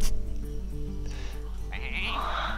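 Sheep bleating sound effect from a Hearthstone card in play during a digital card game, a wavering bleat rising in the second half over steady game music.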